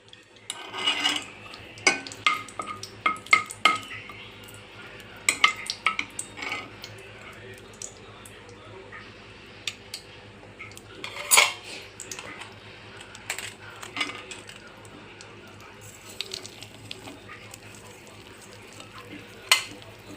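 A spoon scrapes and clinks against a wok as besan roasts in ghee, intermittent metallic taps and scraping strokes over a faint frying hiss, close by and uneven in rhythm.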